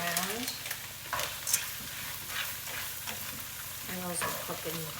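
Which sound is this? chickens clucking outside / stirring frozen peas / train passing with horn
stirring frozen peas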